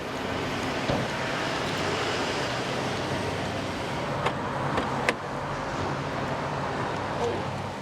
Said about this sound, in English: I'll just move my car, then people can carry on being served.